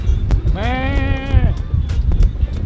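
Goats bleat loudly and close by in a single drawn-out, wavering cry lasting about a second, with rustling and outdoor noise around it during a trip through India.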